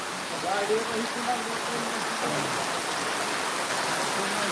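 Heavy cloudburst-like rain pours down at Pirachi Kuroli, a dense, even hiss of water that fills the whole stretch, with a voice briefly audible near the start.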